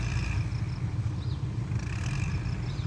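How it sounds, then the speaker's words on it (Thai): A tractor bulldozing dirt on a freshly made road near a pit, giving a continuous low engine drone with faint clatter, heard from some distance and steady throughout. "รถไถกำลังดันอยู่เลย"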